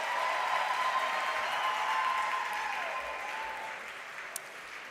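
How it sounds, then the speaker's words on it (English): Sustained applause from an audience at a university dialogue event, a dense wash of clapping that stays loud and tapers slightly toward the end. "Ladies and gentlemen, let's give them another round of applause"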